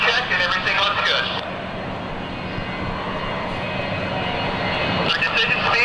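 Jet engines of a C-9B Skytrain roar during the takeoff roll, a steady loud broadband rumble from inside the aircraft, with a voice speaking over it at the start and end.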